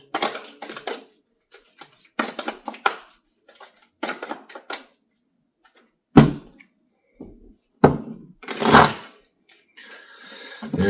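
A deck of tarot cards is shuffled by hand in several quick, crisp bursts of riffling and clattering, with short pauses between them, close up and without talk.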